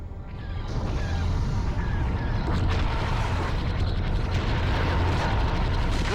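Continuous rumbling gunfire and explosions in the Star Wars Rogue Squadron II space-combat video game, a loud, dense roar of blasts with faint chirping laser tones layered over a low engine drone, and no pause.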